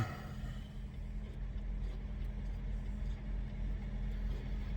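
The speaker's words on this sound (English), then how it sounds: "This is the time where you want to restart the truck again." A truck engine idles steadily close by during a pre-trip inspection, a low, even rumble that holds for the whole moment with no other sounds.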